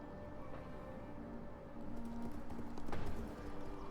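Horse archers' hooves clip-clop in the Total War Attila Hun campaign, a steady low patter of galloping cavalry that swells around the middle and lingers under a busy game soundscape.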